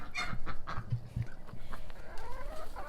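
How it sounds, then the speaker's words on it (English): Chickens from a homestead meat bird flock cluck and squawk close by in quick, overlapping bursts, with a few higher calls standing out against farmyard background noise. "The other animals we have are my meat bird flock."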